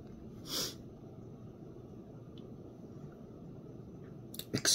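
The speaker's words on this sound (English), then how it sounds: "Excuse for all the sniffling I'm doing." A quiet, brief nasal sniff near the start over a soft steady background hiss, followed by a couple of short sharper snuffles at the end.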